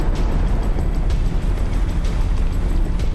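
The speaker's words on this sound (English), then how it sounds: "There's an explosion." Loud, continuous rumbling roar of an erupting volcano in Japan, a dense low-frequency blast sustained throughout with faint crackling bursts on top, no voices.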